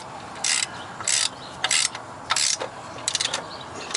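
A ratchet wrench clicks in short bursts as a bolt is tightened on a 2000 Toyota Corolla engine, about seven quick ratcheting strokes close up, separated by brief pauses.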